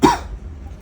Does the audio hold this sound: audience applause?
no